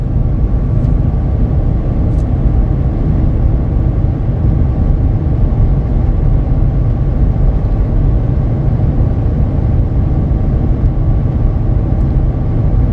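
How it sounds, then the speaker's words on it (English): Cabin road noise inside a heavy-duty pickup truck on Falken Wildpeak A/T4W all-terrain tires at interstate speed, a loud continuous low hum and rumble with some wind noise, no talking. "Let's see if the camera can pick up the road noise. Now that I'm at interstate speed, there's a little bit of a hum"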